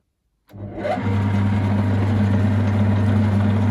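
Metal lathe spinning up at 160 rpm to cut with a tool bit, starting abruptly after silence and then holding a steady, loud, close motor hum with a low constant drone.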